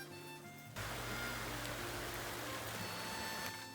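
Heavy rain pours steadily outside a small courtyard house on a stormy day. A dense, even hiss of rain cuts in abruptly after a quieter opening moment and holds at full strength to the end, with no voices.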